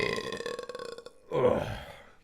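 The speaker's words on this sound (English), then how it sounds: "Gotta burp again." A person drinking Monster Energy drinks lets out a loud, drawn-out burp, close and alone, with a gravelly rasp that fades at the end.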